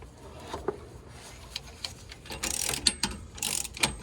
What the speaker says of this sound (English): now that we have our pitman arm puller installed, we are going to start cranking on it here with this wrench